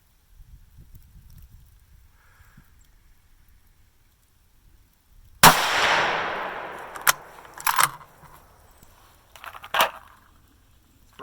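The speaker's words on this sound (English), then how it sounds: "The brake's loud, but it just makes it fun to shoot" A Ruger American Predator rifle in 6.5 Grendel fitted with a muzzle brake fires one sharp, very loud shot outdoors on a nasty day before a snowstorm, with a long ringing decay and a few clattering handling sounds after.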